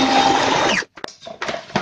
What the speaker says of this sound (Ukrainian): І комбайн швидко і впевнено зробить свою справу.